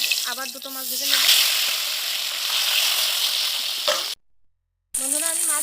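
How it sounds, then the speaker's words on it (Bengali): Japanese puti fish fry in mustard oil in a wok with a loud, steady close sizzle that cuts out briefly near the end and then returns; a voice is heard faintly at the start and at the end. "আবার দুটো মাছ ভেজে নেব।"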